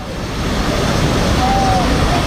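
Floodwater rushes during a flash flood in Nepal, a torrent coming from China that washed away a bridge. It makes a loud, unbroken roar throughout.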